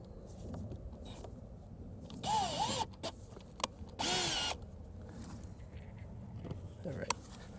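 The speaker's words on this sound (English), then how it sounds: "I'm going to get each hole started before I drive these home" A power drill drives screws into an outside faucet mount in two short bursts of whirring, each starting up and winding down, with quiet handling noises and faint movement around them.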